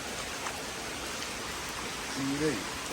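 Steady rain hisses evenly throughout, with a brief voice-like tone rising near the end.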